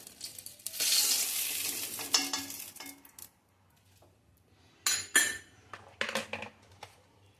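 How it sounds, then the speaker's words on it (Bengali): Eggs frying in a pan, with soft sizzling broken by bursts of stirring and clinks of a utensil against the pan, fairly quiet and close, pausing briefly midway. "ডিমগুলো ভাজা হয়ে গেছে"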